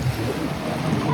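Sea waves wash onto a beach in Pattaya with a loud, brief rush of surf mixed with wind.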